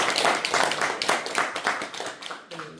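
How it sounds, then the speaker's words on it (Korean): An audience at a literary museum book talk claps to welcome a visiting professor, a brisk wave of fairly close applause that thins out as a voice begins speaking near the end. "따뜻한 박수 부탁드립니다"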